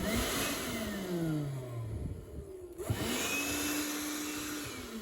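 A Milwaukee M18 cordless spot blower runs with a loud whining motor hum, its pitch sliding down and then back up as it shifts speed, alone and close by.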